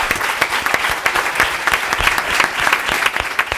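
An audience at a forum gathering applauds a speaker with dense, sustained clapping at close range, steady for the whole stretch.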